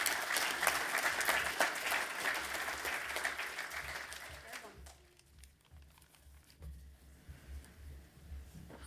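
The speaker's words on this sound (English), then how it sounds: "Round of applause." An audience claps through the first half at a stage awards event, a dense burst of applause that fades out to quieter room noise.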